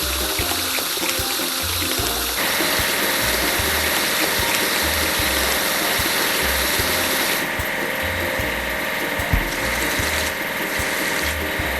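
Water spraying across an earth mover digging machine during washing, a steady broadband hiss with a rhythmic mechanical ratcheting running underneath throughout, close and loud, growing brighter partway through.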